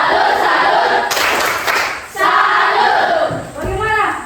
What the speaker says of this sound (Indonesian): Mari kita beri tepuk salut.